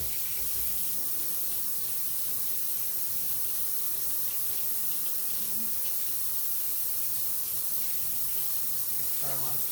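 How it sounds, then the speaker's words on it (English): Hands being washed under a running kitchen tap, a steady broadband rush of water held at moderate level throughout, with a brief knock near the end and no voices. "Wash my hands."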